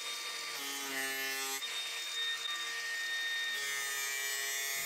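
Angle grinder fitted with a cutting disc making scoring cuts on metal stock for card scrapers, set over scrap MDF on a workbench; a steady, loud, high whine with tonal harmonics runs continuously, dipping briefly in pitch between passes.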